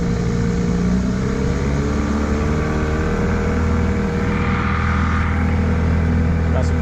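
A boat's outboard motor, freshly carb-cleaned, drones steadily on a Louisiana freshwater bayou, a constant loud hum with low rumble and a faint rise in pitch, mixed with wind and water noise.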